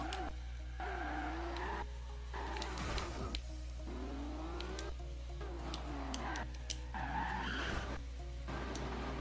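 Tires squealing and skidding as a Nissan Skyline GT-R drifts around corners in Forza Horizon 2, repeated rising and falling screeches over a constant engine drone with no speech.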